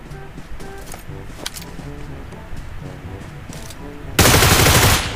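Gunfire in PUBG Mobile during close combat: scattered distant shots give way to a sudden loud, dense burst of automatic fire near the end. A voice is briefly heard earlier in the clip.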